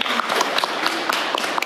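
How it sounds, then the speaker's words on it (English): An audience applauds for a speaker at a panel session, a steady wash of many hands clapping close and fairly loud, continuing throughout with no gaps. "a round of applause please for Mike"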